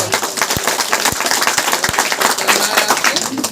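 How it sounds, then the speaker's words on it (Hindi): An audience claps steadily and loudly at a ceremony at Belkheda police station honouring children selected for Navodaya school, with sharp individual claps standing out from the sustained applause. "तालियां बजाएंगे"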